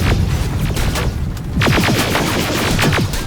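Rapid gunfire from the video game Terminator Resistance, with dense overlapping shots and bursts throughout, loud and close, heavier in the second half, with no talking.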